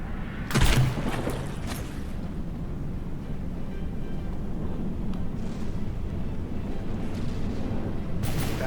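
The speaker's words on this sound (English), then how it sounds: "Missile strike coming in from the Mesotethys Strike Force." Missile strike explosions in the naval combat video game From The Depths: one loud, sharp blast near the start gives way to a steady low rumble, with a fainter second burst near the end.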